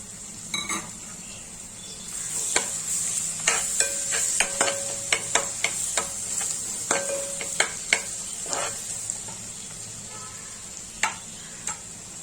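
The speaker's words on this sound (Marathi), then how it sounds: "लसूण आपलं थोडं परतलेलं आहे" Garlic sautés in a pan with cumin and curry leaves for pav bhaji: a steady soft sizzle with a series of sharp clicks and scrapes as a spoon stirs, close and moderately loud.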